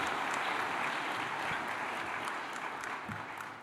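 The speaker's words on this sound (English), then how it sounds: "Oh, the applause." Audience at a Cambridge graduation ceremony in a large hall claps steadily, a dense sustained wash of applause that slowly eases toward the end.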